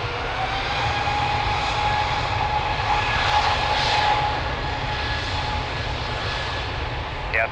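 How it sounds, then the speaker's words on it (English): A TAP Airbus A320neo jet rolls at Lisbon Airport, its engines producing a steady, loud, broadband roar with a faint whine, continuous throughout with no interruption. "Airbus 320 Neo from TAP rolling"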